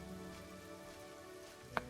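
Steady rain falling in the video game Morrowind, a soft continuous patter over a low game backdrop, with one brief sharp tick near the end.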